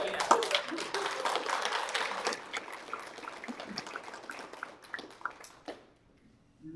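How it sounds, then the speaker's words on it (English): School board meeting attendees clap in thanks for two retiring staff members, a scattered, modest round of applause that thins out and fades to near silence at the end. "Can we clap?"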